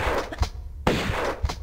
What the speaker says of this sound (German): Oh nein, ich habe einen Schuss verschwendet